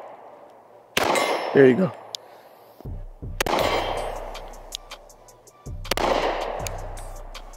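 Rifle shots in .308 are fired at a steel target during a body armor test, three loud sharp cracks spaced a couple of seconds apart, each with a metallic ring and an echoing tail, and someone speaks briefly between them.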